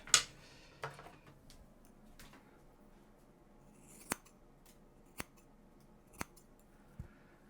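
Scissors snip through hair during an at-home wolf cut or butterfly cut, heard as a few sharp isolated clicks spaced about a second apart over a quiet background.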